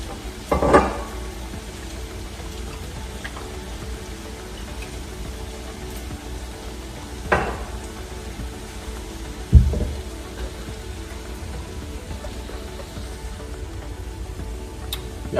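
Beef frying in olive oil in a pan, a continuous soft sizzle and crackle with a few sharp clunks of utensil or pan scattered through, no talk.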